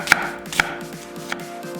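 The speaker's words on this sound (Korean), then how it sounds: "양파 1개는 살짝 굵게 채 썰었다" A knife slicing an onion coarsely on a cutting board, three crisp chopping knocks spaced unevenly, close and clear with no talk.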